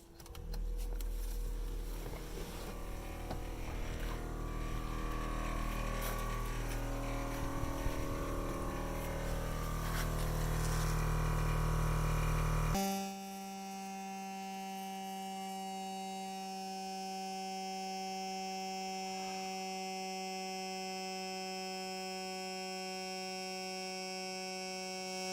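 An Air On Board 12-volt air compressor runs steadily as it charges its tank: a loud, rough mechanical drone that shifts midway into a smoother, constant tonal hum, continuing without pause and with no talking.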